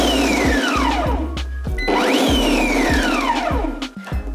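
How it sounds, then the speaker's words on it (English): Thermocook Pro-M food processor pulsing vegan dip ingredients in repeated short motor bursts, each rising and falling in pitch, loud and close with no talk. "with this step, we're not blending or chopping, we're just going to pulse. So we'll do 3 pulses."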